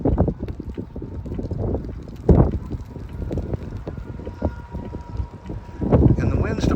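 Steady wind buffets the microphone while riding a new 80cc motorized bicycle, a broad rushing roar that rises in gusts; faint engine drone underneath, with a voice talking intermittently over it.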